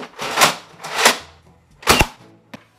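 A Nerf Mega Centurion blaster fires in loud, close bursts: three whooshing shots with pauses between them, then a short sharp click at the end.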